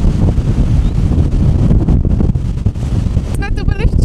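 Strong gusts batter a microphone outdoors at Lake Tekapo, loud buffeting rumble throughout with rustling bursts, and a brief voice-like warble near the end.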